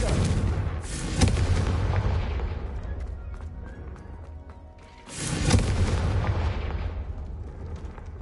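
Confringo explosion curse bursts in Hogwarts Legacy, two heavy booming blasts a few seconds apart, each with a loud rumbling tail that slowly fades, close and dominant.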